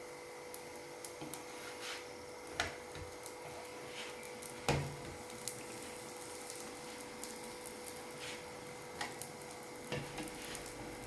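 Rolled mini poori dough cooking on a hot dosa griddle gives a steady low sizzle with soft scraping and stirring sounds, broken by a few sharper clicks and taps, with no talking.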